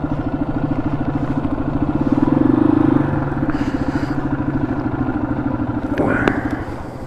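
A Yamaha XT250 dirt bike with a gearbox fault rolls up close, its single-cylinder engine a steady pulsing thrum that swells briefly, with a clunk and scrape near the end and talk over it.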